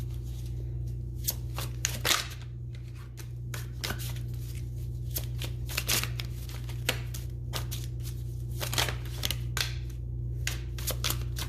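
Tarot cards are shuffled repeatedly in quick riffling bursts, crisp and close, over a low steady background hum.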